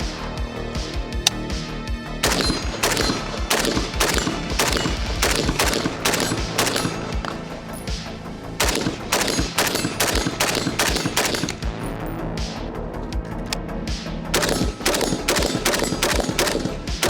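A PSA 556 rifle fires long strings of loud, sharp shots in rapid succession, sometimes grouped into quick bursts, with short pauses between strings and a few single reports, close and echoing outdoors.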